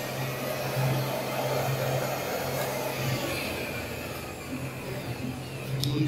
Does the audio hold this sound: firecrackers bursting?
no